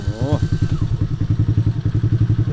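A children's MOWGLI Hardy 8 quad bike, remote-started, idles with a steady, rapid chugging putter, close by, with a brief electronic chirp at the start and a short voice over it.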